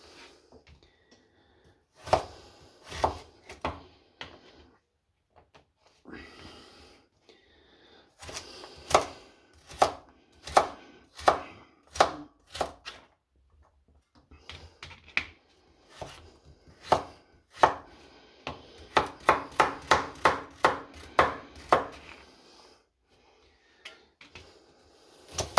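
Leeks and potatoes being roughly diced with a knife for soup, giving repeated sharp chops on a board that come in quick bursts with pauses between, close and fairly loud, with no talking.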